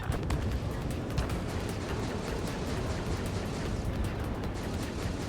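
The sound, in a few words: missile explosion in the video game Ace Combat 7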